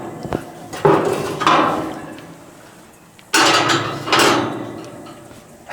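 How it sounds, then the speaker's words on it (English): Heavy 304 stainless steel grates are lifted out of a wood and charcoal fired Coyote grill. Several sharp metallic clanks and scrapes come in two groups, close and moderately loud, with quiet gaps between them. "I'm gonna pull these grates out real quick"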